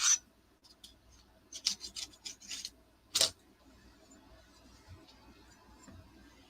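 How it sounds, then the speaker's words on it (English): A blunt little scraper rasps across a stiff decoupage blade in a few short, quiet scraping strokes, separated by near-silent pauses. "I have a little scraper here that's not sharp that I use to clean my blade off"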